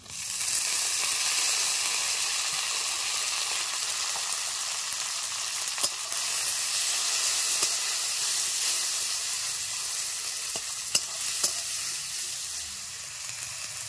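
Chopped tomatoes hitting frying onions in a hot pan, a loud, steady sizzling hiss that fills the whole stretch with a few faint clicks of stirring.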